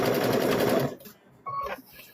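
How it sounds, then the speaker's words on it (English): A sewing machine stitching across a quilt block runs loud and close in one steady burst, then stops; a voice speaks briefly afterward. "So we're going to sew all the way across."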